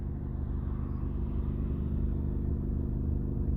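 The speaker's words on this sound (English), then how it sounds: "I don't like the way my engine sound, especially when I put on brakes" A vehicle engine, said to sound wrong especially when braking, runs through a morning ride as a steady, close, low harmonic rumble that holds even and unbroken throughout, with no voices.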